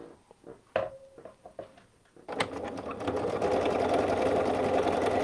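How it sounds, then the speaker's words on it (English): A sewing machine runs steadily, stitching a seam across a fabric tube for an infinity scarf, with a few light handling knocks and clicks before the motor starts and hums continuously up close. "I'm definitely going to sew the seam across."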